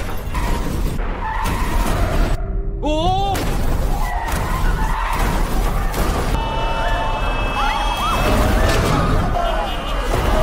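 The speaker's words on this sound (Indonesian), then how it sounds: "yang membuat banyak mobil menuju ke arah Seoul bertabrakan" Many cars skid and collide on a road toward Seoul in a chaotic film scene: loud tyre squeals, engine noise and crash impacts pile up continuously, with a voice talking over them.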